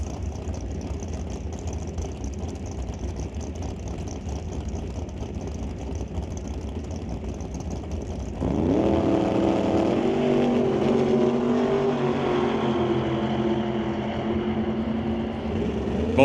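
A Bel Air and a Cavalier drag race down a quarter-mile strip with a steady engine drone. Partway through, a louder, rougher roar with rising engine tones takes over and holds steady.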